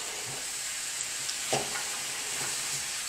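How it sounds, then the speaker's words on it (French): Tomatoes, onions and garlic fry in a pan with a steady, soft sizzle and a few faint stirring scrapes, close and continuous without any voices. "On va aussi faire caraméliser un tout petit peu les oignons et l'ail"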